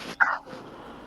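A single short dog bark rings out close and fairly loud, then fades into quiet room tone.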